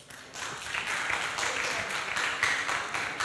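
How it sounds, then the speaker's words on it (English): Sustained applause from a crowd, a dense patter of many hands clapping at moderate volume, heard at some distance. "I don't know why they are clapping"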